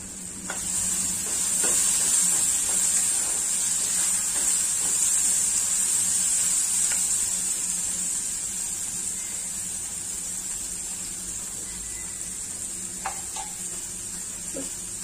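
Onion fries in a pan as tomato and salt go in, giving a steady soft sizzle with a few faint clicks from stirring and no talking.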